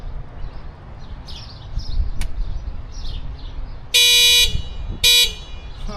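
Horn of an RC toy Porsche GT3 car sounds two loud, harsh electronic honks, one about a second long and a shorter one after, following quieter chirpy toy sounds and a sharp click.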